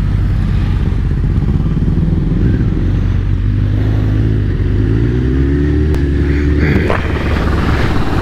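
Motorcycles on a group ride roll slowly into a Dutch village, a loud steady engine rumble close by with shifting revs and passing vehicles, continuous throughout.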